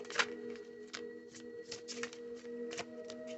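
A thick deck of tarot cards being shuffled by hand, a series of crisp riffling bursts at an uneven pace, close and fairly quiet, with no talking.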